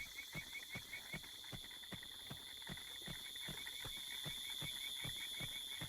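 Horse hooves in the video game Horse Isle 3, a steady rhythmic clip-clop of regular footfalls at a walking pace, quiet and even over a constant high electronic hum.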